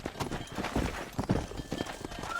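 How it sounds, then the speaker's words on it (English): Rhythmic hoofbeats of a galloping horse herding cows in Red Dead Redemption, steady and fairly close, with a busy layer of background noise and no talking. "Control that horse, will ya?"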